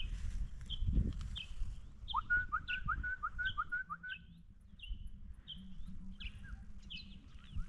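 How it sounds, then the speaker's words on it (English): Small birds singing in hilly countryside, with repeated bright whistled phrases and a rapid trilling run, fairly close and clear over low outdoor rumble and occasional rustling. "You can listen to the sounds of birds."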